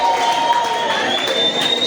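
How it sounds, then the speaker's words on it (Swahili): Church congregation applauding and ululating in praise during a lively sermon, a dense continuous wash of clapping, cheers and high trilling voices filling the room without a break. "Tupie Bwana makofi na vigelegele"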